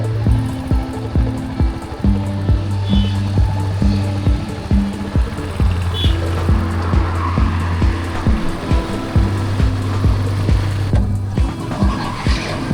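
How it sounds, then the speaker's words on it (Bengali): A motorcycle engine hums steadily up close while riding through fog, its pitch climbing and dropping through repeated gear changes, with wind rushing over it throughout. "এই কুয়াশার মধ্যে কিন্তু বাইক চালানোটা একটু রিস্কি"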